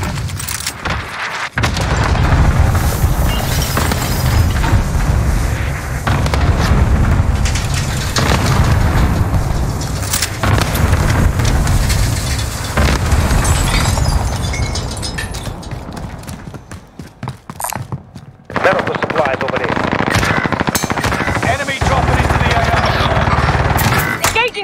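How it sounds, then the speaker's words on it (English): Cluster strike explosions in a first-person shooter video game, a dense, loud barrage of rumbling booms and rattling blasts that runs almost continuously, with a brief lull before the pounding resumes. "Enemy cluster strike."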